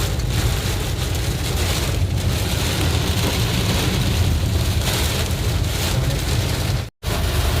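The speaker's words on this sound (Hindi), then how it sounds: "इतनी तेज बारिश हो रही है।" Heavy storm rain pours steadily on a road with vehicles, a loud, dense hiss drumming on a surface with a low rumble beneath, broken by a brief cutout near the end.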